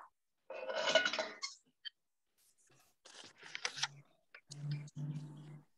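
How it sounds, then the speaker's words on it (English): Metal whisk scraping and clinking in a pot of cooking ingredients on the stove, several close bursts of busy stirring separated by brief pauses, with no voices. "Whisking it continuously so it doesn't stick to your pan until it boils."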